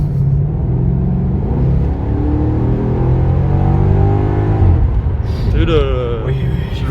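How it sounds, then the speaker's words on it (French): A Maserati GranTurismo engine drones steadily and then rises in revs before a gear change, with a rumbling exhaust note heard from inside the car while people talk over it. "quand ça passe les vitesses, ça fait un boom dans l'échappement, on a l'impression que ça explose"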